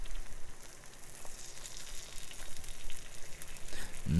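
Bacon frying in a pan gives a steady, close sizzle and crackle with faint popping that runs the whole time, with no talking over it.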